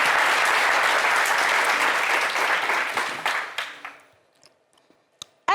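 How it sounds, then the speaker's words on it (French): Applause from the audience at a fashion battle show, full and close at first, then thinning into scattered claps before fading out. A short sound breaks the quiet at the very end. "Applaudissez pour ça."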